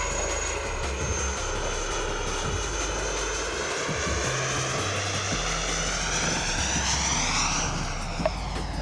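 Twin 70mm electric ducted fans of a Freewing B-2 Spirit RC jet whine steadily in flight, a loud sustained tone that rises in pitch near the end, with a sharp click just after.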